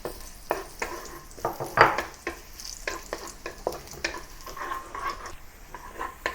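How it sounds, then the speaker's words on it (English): Ginger frying in oil in a wok, a steady sizzle broken by repeated scraping stir strokes and clinks of the spatula against the pan, close and moderately loud with no voices. "Now add some oil to the wok and fry the ginger and garlic."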